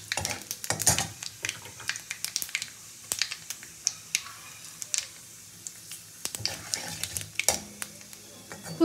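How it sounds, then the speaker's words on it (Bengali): Black cumin, white cumin and a dried red chilli sizzle in hot oil as a tempering, with irregular clicks, pops and utensil taps spread across the sizzle at moderate volume, no talking. "তো ফোড়নটা আমি খুব ভালো করে ভেজে নেব।"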